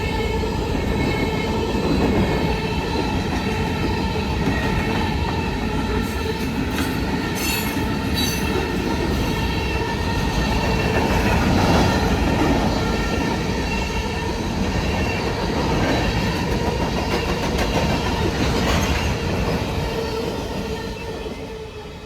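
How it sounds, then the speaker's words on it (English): A Norfolk Southern freight train rumbles past continuously for a long stretch, wheels clattering and squealing on the rails, loud and close throughout. "This made the second Norfolk Southern train I'd seen on my run."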